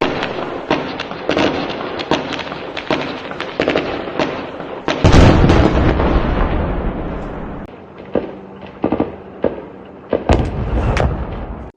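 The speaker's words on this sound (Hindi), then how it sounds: "देखिए वीडियो की किस तरह से रात के अंधेरे में हमले की आवाज साफ तौर पर सुनाई दे रही है" Rapid, dense bursts of explosions from an Israeli rocket and drone attack near Jenin at night, cracking and booming over a continuous rumble, with heavier blasts clustered midway and scattered sharp reports afterward.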